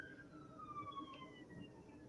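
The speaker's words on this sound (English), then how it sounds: "you can hear these sirens, unfortunately" Faint wailing sirens in the distance, their pitch sliding downward, heard outdoors against a low background rumble.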